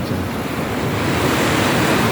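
Rough sea surf on a Palawan coast during a signal number 2 typhoon, a continuous loud roar of breaking waves mixed with heavy wind buffeting the microphone.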